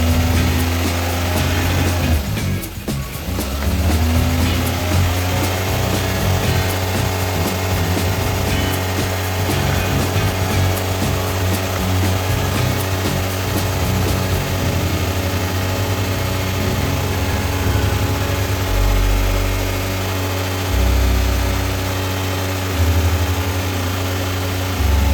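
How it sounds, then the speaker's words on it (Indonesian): A car engine after a tune-up with a carbon-cleaning treatment runs at a steady, loud idle close by, with a brief rough burst near the start as it catches, then a continuous even hum throughout. "Kemudian setelahnya kita coba tokser guys ya, dan terlihat getaran dari mesin ini minim."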